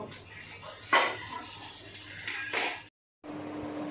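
A plate handled on a kitchen counter while making a bread-and-egg pizza, with a couple of soft ceramic clinks and knocks amid quiet room noise, followed by a brief silence.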